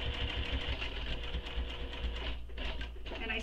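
Sewing machine stitching a seam on a fabric wristlet, a steady close whirring hum with fast rhythmic needle thumps, easing slightly then carrying on without pause.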